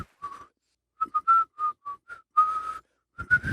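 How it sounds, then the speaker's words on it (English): Someone whistles a short, halting tune of separate clear notes with small pauses, close and fairly quiet, no talking. "Can't whistle today."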